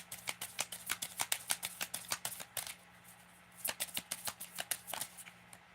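Tarot cards shuffled by hand in quick riffling bursts, a rapid run of crisp flicks, a short pause, then another flurry, close and clear over a faint steady hum.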